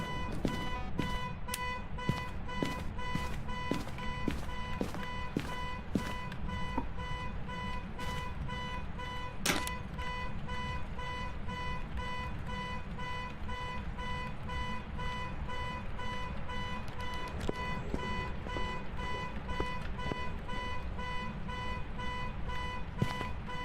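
A car alarm blares inside a video game, a continuous electronic beeping that repeats steadily and evenly throughout, with a few sharper clicks early on and no voices over it.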